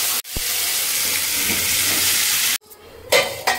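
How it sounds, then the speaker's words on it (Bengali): Onion, tomato and masala sautéing in a pan for a soybean curry: a steady close sizzle and frying hiss for over two seconds, then a sharp break and a few louder spatters and stirring scrapes. "পেঁয়াজ এখন টমেটো দিয়ে মশলাটা কষাচ্ছি"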